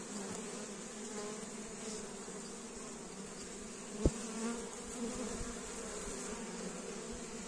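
A steady, dense hum of many honey bees buzzing close by, with one brief tap partway through and no talking.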